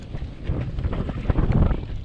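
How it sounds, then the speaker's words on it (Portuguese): Strong wind buffets the microphone on a boat while fishing for snook with an artificial shrimp lure, a continuous rough low rumble with gusty surges and no voices. "Tá com vento demais."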